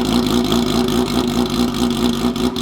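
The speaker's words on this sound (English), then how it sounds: "this thing is straight piped right now and it's loud as hell." A straight-piped Yamaha R6 sport bike engine runs loud and close, with a buzzy, harmonic-rich exhaust note held steady through a short rev.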